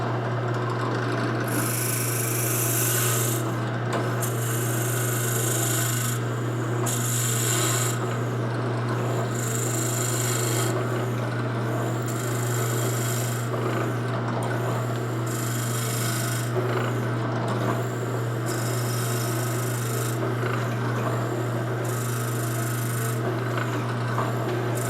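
A drill bores a hole through a wood piece clamped in a vise, making a steady series of scratchy rasping strokes over a constant low electrical hum, with no talking.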